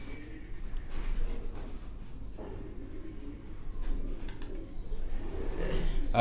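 Sialkoti pigeons at a loft in Quetta coo in scattered, soft calls over a low rumbling background that grows slightly louder toward the end.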